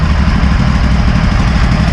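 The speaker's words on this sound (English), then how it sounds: "Throttle down. Just sitting there idling." A Scag zero-turn mower engine, freshly fitted with a replacement carburetor, idles at low throttle with a loud, steady, close-up low rumble and even, unbroken chugging.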